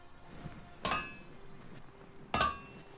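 Two bright metallic clanks from a blacksmith's hammer in the ELEX II smithy animation, evenly spaced and crisp against quiet room tone.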